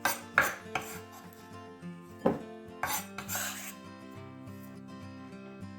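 A knife slices through a trimmed spring onion on a chopping board, with several sharp cuts and board knocks early on, then quieter handling over a steady background hum.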